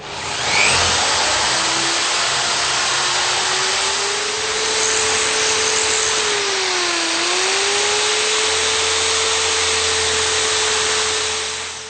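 A steady, loud drill whine runs continuously while drilling out the inside of a bagpipe part, its pitch dipping briefly midway as the bit bites into the material.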